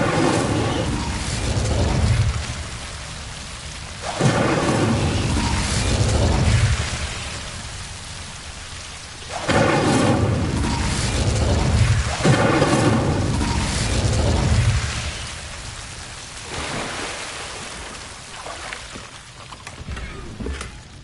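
Incendio fire spells are cast in the video game Hogwarts Legacy: about four loud, roaring whooshing blasts of flame, each lasting a couple of seconds, separated by quieter, crackling gaps.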